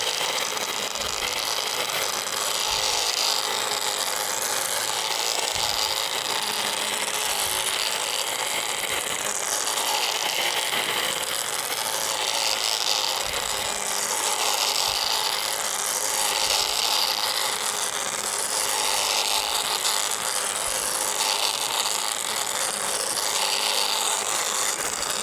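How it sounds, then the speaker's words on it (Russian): An ONEVAN cordless grass trimmer cuts short grass with tufts in a yard, producing a steady, fairly loud whirring and rasping hum that runs continuously with slight rises and dips. "Ну а теперь пошли попробуем косить."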